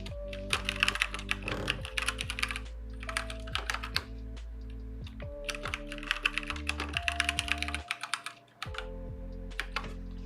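Steady typing on a computer keyboard for about ten seconds, rapid clattering keystrokes in bursts with short pauses, close and fairly quiet over a low background hum.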